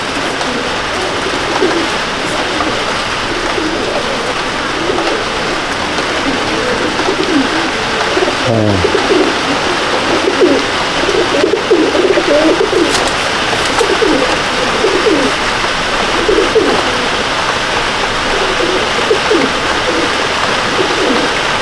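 Pigeons in a loft coo constantly, many soft overlapping throaty calls forming a dense murmur close by, with a few brief flutters and knocks within the flock.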